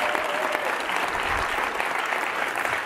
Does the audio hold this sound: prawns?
no